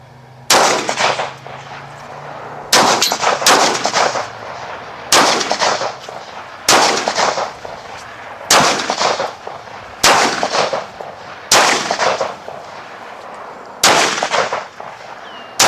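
Pistol gunshots at an Israeli shooting range, fired from Beretta, Jericho or Sig P228 handguns, about ten sharp loud cracks spaced one to two seconds apart with short ringing echo after each.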